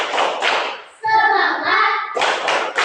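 A group of children doing rhythmic spirit clapping, bursts of brisk claps bracketing a stretch of chanting voices in between.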